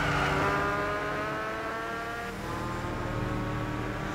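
A Peugeot all-wheel-drive LMP prototype race car roaring at Spa in Gran Turismo 6, its engine note holding steady and loud, then climbing slightly in pitch as it pulls through a gear.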